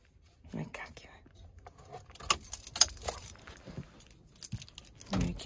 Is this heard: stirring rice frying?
no